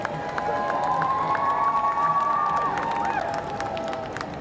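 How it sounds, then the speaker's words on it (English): A crowd clapping and cheering along a route, with a sustained whistle-like tone and scattered shouts over dense applause, steady and moderately loud throughout. "They're probably clapping for whoever is ahead of them."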